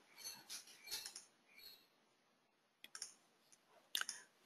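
Several computer mouse clicks, sharp and close, in scattered bursts with short gaps and quieter rustling between them.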